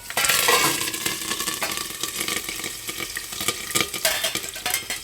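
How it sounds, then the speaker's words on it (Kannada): Curry leaves dropped into hot oil in a covered pan sputter and crackle loudly, with dense popping and sizzling throughout and occasional clinks of the lid and utensils. "ಕರಿಬೇವು ಹಾಕಿ ಮುಚ್ಚಿಡ್ತೀನಿ ಎಗ್ರುತ್ತೆ"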